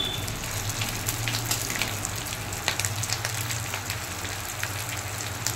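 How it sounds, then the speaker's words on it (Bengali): Two whole spices fry in oil until reddish, giving a continuous crackling sizzle, close and fairly loud, with tiny pops scattered throughout. "এই মশলা দুটোকে ভালো করে একটু লালচে করে ভেজে নেব।"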